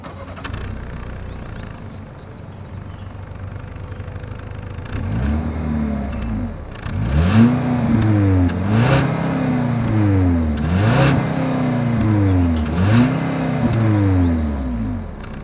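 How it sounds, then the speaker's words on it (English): A 2020 Ford Edge in non-ST trim idles, then its engine is revved repeatedly in rising and falling sweeps, the exhaust note loud and close with no talk. "As always, here is that exhaust clip."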